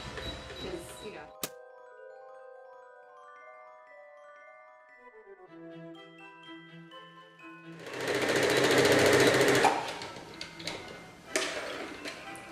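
A sewing machine starts up and sews a straight stitch in a fast, rattling whir for a couple of seconds, then stops, following a quieter stretch of soft tones.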